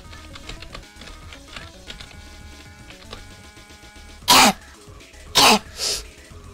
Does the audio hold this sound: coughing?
yes